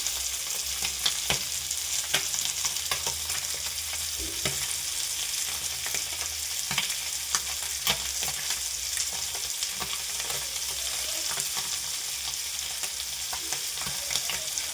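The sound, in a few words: sardines frying in coconut oil with masala and curry leaves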